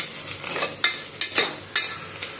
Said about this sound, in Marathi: कांदा आपल्याला मध्ये मध्ये हलवत राहायचा आहे जेणेकरून खाली लागू नये